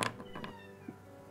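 A house cat meows close by, two or three short calls in the first half-second followed by a fainter one, with no talk over them.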